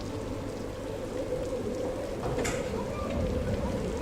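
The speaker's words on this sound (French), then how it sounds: "la pluie et le vent battent contre les vitres fermées" Steady rain driven by wind beats against closed windowpanes in a dark room during a raging storm, a dense continuous hiss with a brief brighter spatter partway through, no voices.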